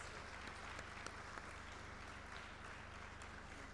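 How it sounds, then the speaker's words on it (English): An audience at a FICCI Ladies Organization event applauds steadily for a few seconds, a dense, even patter of many clapping hands with a low steady hum beneath and no voices. "a huge round of applause,"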